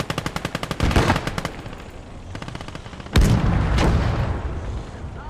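Tanks and infantry guns firing in the war strategy game Kampfgruppe: a rapid burst of machine-gun shots, then sparse scattered fire and a heavy cannon boom with a rolling tail, loud and close.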